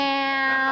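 A person's voice imitates a sad, pained cat meow, a single drawn-out tonal wail sung close and steady with no other sound.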